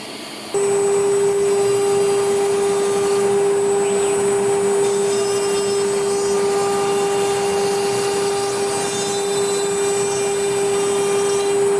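A vacuum pump holding timber workpieces down on a CNC router bed runs loud and continuous, a steady droning hum with a strong unchanging tone throughout and no talking.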